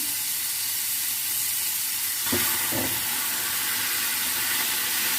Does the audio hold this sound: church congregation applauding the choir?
no